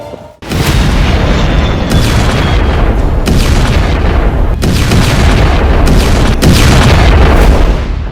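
Loud, continuous rumbling roar of explosions from a long-range missile attack, dense and unbroken with several sharper booms and cracks layered in, no talk over it.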